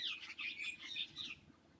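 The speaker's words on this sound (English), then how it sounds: "hear those birds?" Small birds chirp and twitter outdoors in quick, bright bursts, faint and somewhat distant, fading toward the end.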